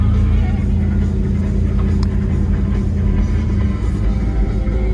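A 1967 Oldsmobile Cutlass classic muscle car driving, a loud, steady low engine rumble heard from inside the car with a faint voice over it.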